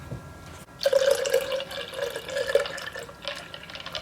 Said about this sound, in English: Then we are going to add our milk. 1 cup of milk.